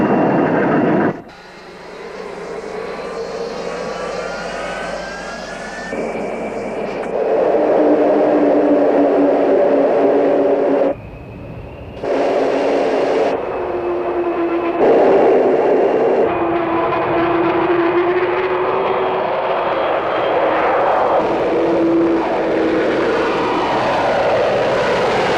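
Avro Vulcan XH558 bomber's jet engines during takeoff, a loud sustained roar with rising whine and shifting tones that builds and holds throughout, briefly cut between sections.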